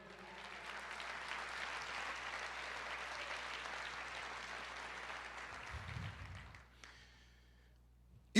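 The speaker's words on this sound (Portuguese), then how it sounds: "Você pode aplaudir o Senhor?" Sustained applause from a church congregation, a broad wash of clapping that holds steady for several seconds before fading out, with a few voices at the end.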